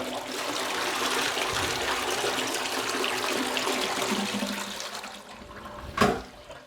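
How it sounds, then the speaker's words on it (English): A toilet being cleaned with CLR flushes with a steady loud rush of water that fades to a trickle, followed by a sharp close clunk near the end. "I'll just flush it one more time"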